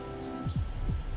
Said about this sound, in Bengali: কি পরিমাণ বৃষ্টি হলো দেখো